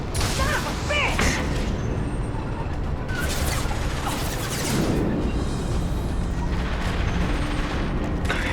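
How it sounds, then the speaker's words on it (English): Gunfire in the video game Mass Effect 2 on Insanity difficulty, a loud, busy firefight of repeated shots and booming impacts in irregular bursts, with mechanical clanks mixed in and no break across the stretch. "We've been spotted. Taking fire!"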